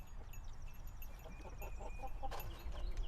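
Chickens clucking and chirping nearby on a farm with a bee yard, with short repeated calls over a steady background rumble.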